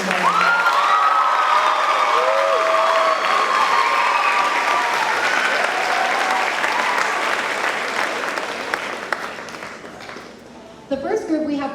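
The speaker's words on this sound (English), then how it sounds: "can we give one more round of applause just for Ms. Erlenborn?" Sustained applause from a large audience at a spring district choral festival, loud and dense at first and gradually thinning near the end, with some cheering mixed in.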